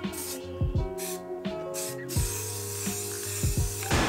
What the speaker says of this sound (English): Now I'm gonna try and do a layer of spray paint on top to kind of encapsulate the tackiness